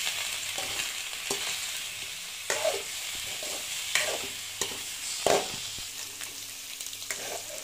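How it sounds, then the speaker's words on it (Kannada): Paneer slices sizzle in butter in a pan, a steady close crackle broken by several sharp bursts as the pieces are stirred or turned. "ಇವಾಗ ಬೆಣ್ಣೆಯಲ್ಲಿ ಚೆನ್ನಾಗಿ ಫ್ರೈ ಮಾಡ್ಕೊಳ್ಳಿ."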